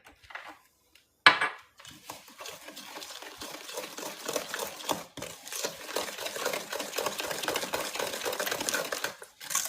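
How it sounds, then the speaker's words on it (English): Pecan pie filling with eggs is stirred briskly in a bowl, a steady scraping and clinking of utensil against the dish after a brief knock at the start. "Gotta mix this well because of those eggs."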